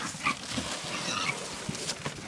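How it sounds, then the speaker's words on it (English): Pigs on a farm grunting and oinking as they are fed, several short snorting grunts close by over a few seconds, with light background rustle. "let us feed the pigs"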